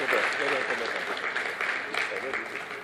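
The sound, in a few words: audience applause at mentors conference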